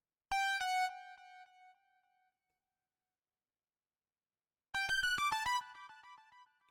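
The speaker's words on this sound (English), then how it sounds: "it's from Diva" A Diva synth lead using the MK Overdrive Lite preset, played dry without effects: a bright, buzzy chord stab that rings for about two seconds, then after a silence a rapid string of staccato notes with a short tail.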